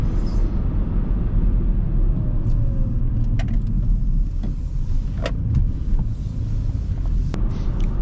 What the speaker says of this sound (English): lot of wind noise, but the car is also just a giant square that makes it a bit worse